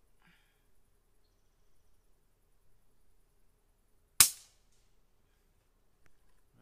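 One crisp, short report from a Taipan Mutant air rifle at roughly fifteen feet, sudden and loud against near silence, fading quickly with only faint background noise around it.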